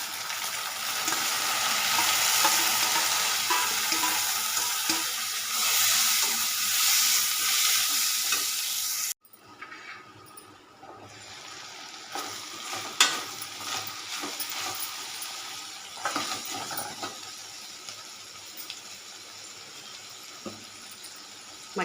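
Broad beans (chikkudu kaya) frying with onion in a pan: a loud, dense sizzle that drops off abruptly, then quieter crackling with occasional scrapes and clacks of stirring.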